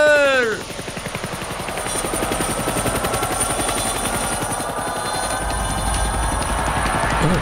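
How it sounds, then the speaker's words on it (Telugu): A helicopter's rotor beating in a steady fast thumping rhythm, loud and close throughout, with a rising whine at the start as it powers up. "హెలికాప్టర్."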